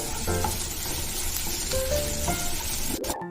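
Capsicum frying in a pan gives a steady, loud sizzle with stirring scrapes, continuous and close, ending in a sharp clatter.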